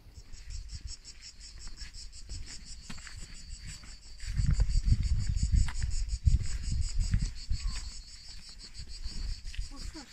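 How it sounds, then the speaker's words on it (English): Outdoors near a hillside town with towers, a cicada gives a continuous high buzzing drone, fairly steady and prominent, while low rumbling wind or handling noise swells underneath partway through. "Cicada."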